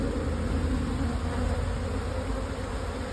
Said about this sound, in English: We have bees working it